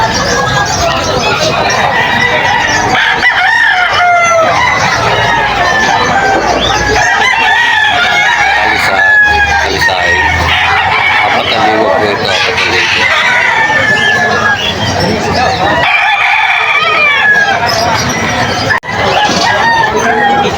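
Roosters crow and hens cluck close by at a busy outdoor market stall on a rainy day, with steady chatter and talk from people around throughout.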